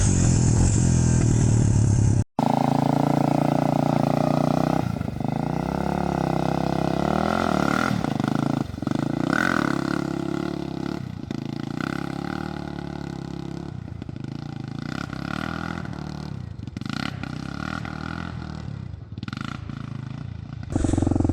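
A utility quad ATV without a clutch roars through a sustained engine rev during a wheelie, loud and close, with the pitch rising and falling as the throttle is worked, then dropping back after a brief cut.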